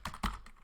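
Keys tap on a computer keyboard while a Linux command is typed, a few quick soft clicks in a brief faint burst with no talk.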